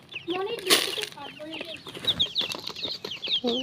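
A mother hen and her many young chicks cluck and cheep close by, a busy overlapping mix of short clucks and high peeps with occasional wing flaps, lively and continuous.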